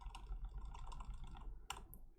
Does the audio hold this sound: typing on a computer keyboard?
yes